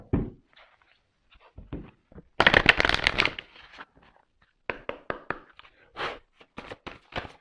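Tarot cards shuffled close up in a quiet room, with a dense riffling burst in the middle followed by scattered papery flicks and soft taps as the cards are cut and handled.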